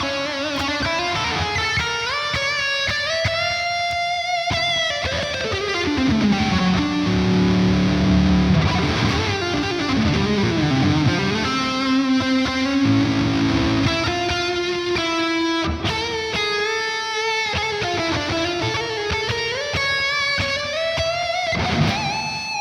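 A distorted modern metal electric guitar plays a sustained, bending lead line drenched in reverb and delay, notes gliding and ringing out loudly.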